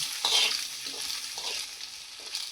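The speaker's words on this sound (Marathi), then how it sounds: "तेल गरम झालं की हे मसाले टाकून घ्यायचे. आणि आपण कापून घेतलेले हे अंडे त्यावर टाकून घ्यायचे." Spices and chopped eggs hitting hot oil for a Marathi-style egg bhaji, giving a steady broadband sizzle with a few stirring scrapes over it, close and moderately loud, with no speech.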